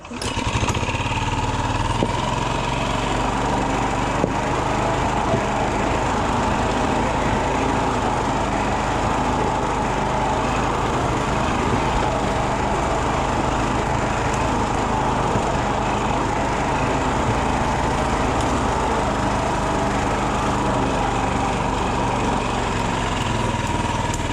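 A Rokon motorbike engine drones steadily at close range in low gear, engine braking on a flattish section, a continuous rough mechanical roar with little change in pitch throughout.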